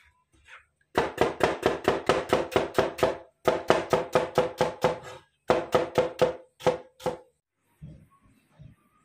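A knife chops large, sweet bamboo shoots on a board, sharp, evenly spaced strikes in three quick runs of a dozen or so, close and loud with short pauses between the runs.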